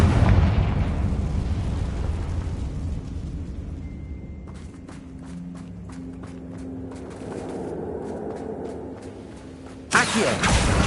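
A Confringo blasting spell in a Harry Potter video game bursts with a boom, followed by rumbling and crackling debris, then a sharp loud burst near the end.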